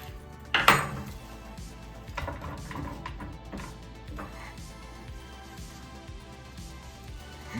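A knife chops vegetables for aromatics for a roast duck, with a sharp clatter early on followed by soft, irregular cutting taps on a board, fairly quiet and without talk.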